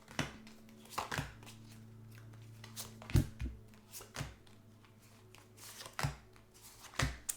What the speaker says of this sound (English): let's get the cards out